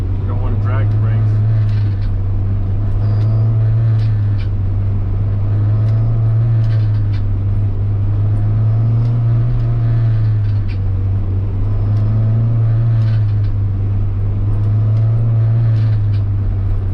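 An Acura Integra with newly fitted Hawk HP Plus brake pads and Legend calipers drives slowly through a neighborhood, heard from inside as a steady low engine drone with cyclic swells; the driver talks over it.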